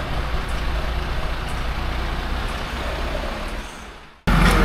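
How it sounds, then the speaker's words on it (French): A truck manoeuvres and struggles to unload, its engine a steady, fairly loud rumble that fades slightly before cutting off abruptly, then returns suddenly. "une difficulté à décharger le camion"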